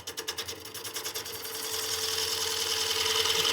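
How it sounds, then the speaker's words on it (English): A wood lathe spins a bowl blank while a Oneway Easy Core coring tool cuts deep into it, giving a steady, loud rasping whir that pulses at first and then settles into a continuous heavy cutting drone. "You can hear from the sound I'm removing a lot of material with each cut"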